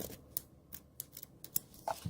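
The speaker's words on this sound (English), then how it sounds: "I'm going to clip it. Cut it at an angle, it looks cute." Scissors cutting the stems of a DIY bridesmaid's flower bouquet at an angle: several quiet, crisp close snips spaced irregularly, with light rustling between.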